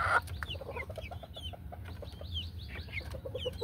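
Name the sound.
native Bisaya chickens clucking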